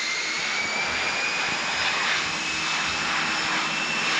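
A small airplane's engine roars steadily at takeoff preparation in strong wind, a loud continuous broadband rush with a faint high whine running through it, no voices.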